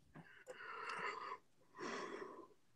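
A person yawns aloud in two long breathy, voiced stretches with a short pause between, close to the microphone and with no other talk.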